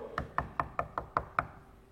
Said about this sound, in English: And Moses comes and he knocks on the door.